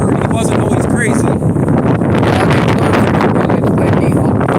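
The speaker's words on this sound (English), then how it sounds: "It's windy." Outdoors in Hood River, loud wind buffets the microphone in a constant roar with gusty swells, and a voice is partly buried beneath it.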